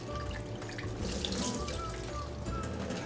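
Cold tap water runs steadily into a sink as blanched vegetables are rinsed, a soft continuous splashing and trickling close by with no talk.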